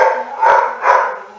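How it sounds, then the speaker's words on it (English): Dogs bark in a few loud, close bursts, the second coming shortly after the first, with no talking. "I see my dogs are going nuts"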